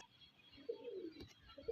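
Pigeons of a heavy bloodline give a few soft, low coos, faint and fairly close, with quiet background noise between calls.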